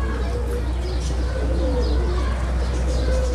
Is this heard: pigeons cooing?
yes